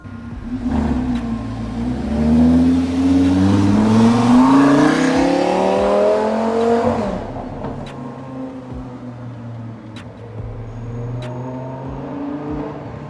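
A Ferrari F12 Berlinetta sports car engine revs and pulls away nearby, pitch climbing loudly for several seconds before fading into a low idle rumble.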